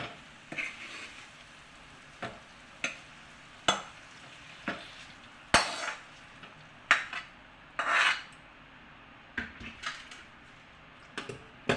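Metal spoon scraping and stirring kovlyachi bhaji frying in oil in a pan, sharp irregular clanks and scrapes with bursts of sizzling, and no voices.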